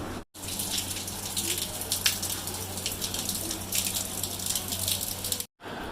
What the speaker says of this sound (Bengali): বৃষ্টি হলো, দেখো এখনও হচ্ছে, তবে কমছে, তবে হচ্ছে